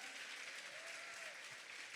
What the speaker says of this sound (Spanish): recibamos con un fuerte aplauso al conferencista del día